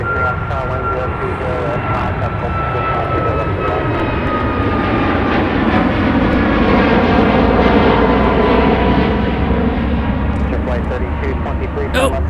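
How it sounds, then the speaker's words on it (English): A Southwest Boeing 737 MAX roars loudly and steadily during takeoff at Minneapolis–St. Paul airport, a broad sustained engine rumble with a faint whine, holding strong throughout and swelling slightly near the end. "And we got a MAX lifting off for Southwest."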